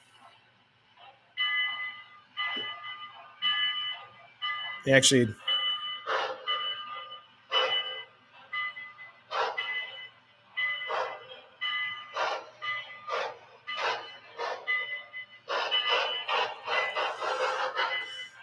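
Lionel toy train bell clanging in a steady, repeated ringing pattern close by, with a brief sharp knock near the start and a few spoken words in between.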